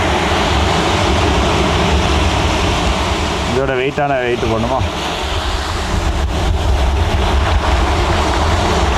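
Rough, churning sea with broad wind-driven wash and surf around a small fishing boat, loud and continuous throughout, with a brief burst of talk in the middle.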